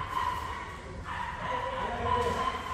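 H'Mông bobtail dogs in transport cages bark and whimper in short yips, mixed with a person's voice and a steady engine hum underneath.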